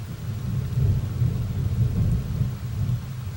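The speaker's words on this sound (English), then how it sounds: "That was some thunder out there if you didn't guess." Low rumbling thunder rolls continuously through steady rain on a bank holiday weekend, a deep, sustained grumble that swells and eases without any voices.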